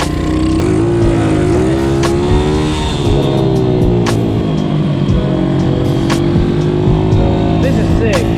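A pit bike engine drones loudly and steadily while being ridden, its pitch wavering as the throttle changes, with wind buffeting and a rider's voice talking over it.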